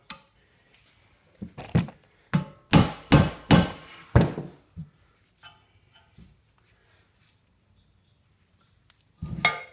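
A hammer strikes a Honda Civic Del Sol wheel hub during bearing removal. Several sharp metallic blows come in a quick close cluster, followed by a few lighter taps and then quiet.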